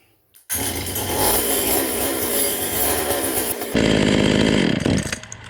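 A Stihl 020 chainsaw engine with a stubborn stalling fault fires up abruptly and runs loud and close for about three seconds, rises into a harsher rev, then cuts out and dies away near the end.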